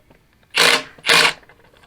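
A power tool run in reverse to loosen engine bolts, two short loud whirring bursts in quick succession, close by with quiet pauses between.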